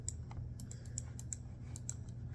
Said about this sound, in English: All I do is click. Just literally click.